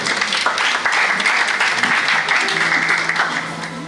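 Audience at a church conference clapping steadily and fairly close, a dense continuous applause that thins slightly toward the end, with a faint low hum beneath.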